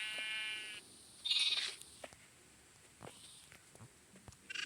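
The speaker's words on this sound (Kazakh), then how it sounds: "Қойларға тамақ берейік." Sheep at feeding time on a farm bleat twice near the start, one short call followed by a louder, sharper bleat, then soft shuffling and light footsteps in a quiet pen, with no voices.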